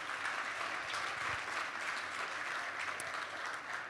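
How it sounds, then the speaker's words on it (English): Sustained applause from an audience at a mission network meeting, steady dense clapping throughout with no talk over it. "round of applause for those new."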